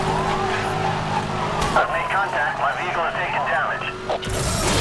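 A car races at top speed in Need for Speed: Hot Pursuit, its engine droning loudly while tires squeal and skid in sweeping bursts, with a voice talking over the action.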